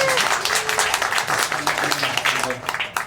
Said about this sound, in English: Everybody give Stephanie a big round of applause